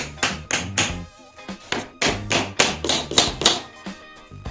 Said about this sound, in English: put them in on either end and tap them into place